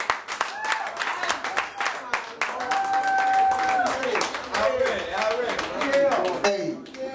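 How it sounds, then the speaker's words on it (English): Audience applause and clapping for a rapper at an open mic night, a sustained dense patter of many hands with cheering voices and talk mixed through it. "y'all give my homeboy another round of applause"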